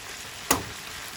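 Steak frying in olive oil with onion and seasoning for Jamaican pepper steak gives a single brief, loud sizzle burst midway, set against a low steady background hiss.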